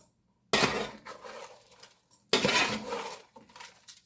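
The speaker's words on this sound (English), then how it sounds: "now I will add in my rice. My flame is on the lowest, so just add in your rice as well. Give it a quick stir." A metal spoon scrapes and clinks against a pot while rice is stirred for aloo pulao over the lowest flame, in two short rough bursts separated by a brief pause, close and fairly loud.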